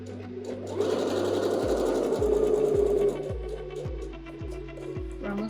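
A sewing machine stitches the seam of a fabric face mask, running steadily and close with a rhythmic mechanical chatter and brief pulses as the needle drives through the cloth.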